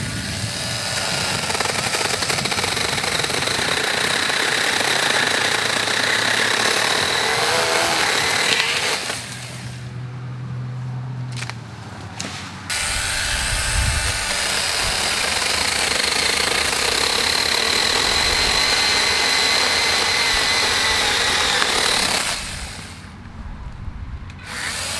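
A Worx 20V 5-inch cordless pruning saw cuts through wood, a loud sustained buzzing chainsaw-like drone that runs steadily, drops briefly in the middle, then resumes at full strength until near the end.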